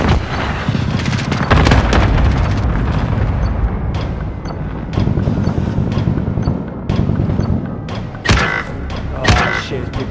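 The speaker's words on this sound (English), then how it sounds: "Incoming bombing run!" Bombing run explosions in Call of Duty: Modern Warfare, heavy booms and thuds with gunfire crackling between them, loud and close, with several distinct blasts toward the end.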